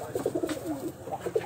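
A Giribaj pigeon gives soft, low, throaty coos in quick succession, close by and fairly quiet, with a faint background hum.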